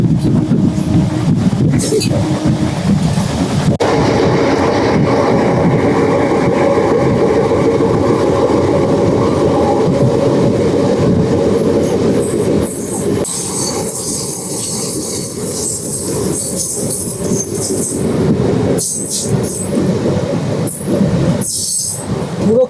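A Barddhaman–Asansol MEMU passenger train runs on rails with a loud, continuous rumble, rhythmic clickety-clack and squealing wheels, heard from on board throughout with faint voices in the carriage.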